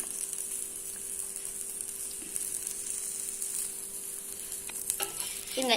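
A chicken omelette fries in a pan with a steady, close sizzle that holds evenly throughout, broken near the end by a few utensil scrapes as it is turned; no one speaks.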